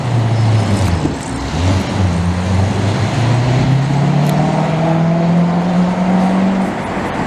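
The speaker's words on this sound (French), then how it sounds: "Le V8, là, c'est le meilleur son que tu peux imaginer." A white Corvette's V8 engine roars loudly nearby on a Montreal boulevard, its deep exhaust note rising and falling as it revs and pulls through the street, with traffic noise around it.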